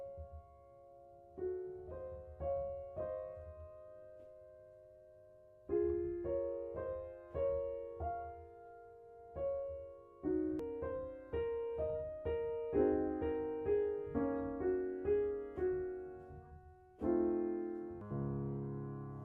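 A piano plays the opening phrase of Debussy's Clair de Lune softly without sustain pedal, with separate struck chords and notes decaying quickly, in several spaced groups over nearly twenty seconds, no voices.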